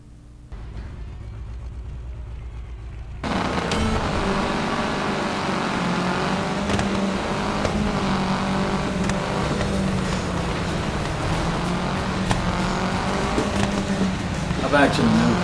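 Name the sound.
car engine revving in an Xbox racing video game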